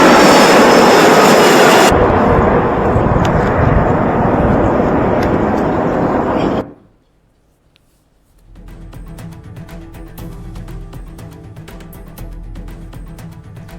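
Jet aircraft landing, a loud roaring engine rush that drops sharply, falls almost silent for a moment, then returns as a quieter, steady engine hum with faint rattles.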